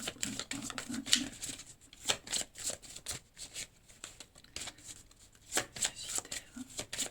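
Tarot cards are shuffled by hand in quick, rhythmic riffles, close and crisp, with papery flicks repeating across the whole stretch and a voice speaking faintly underneath.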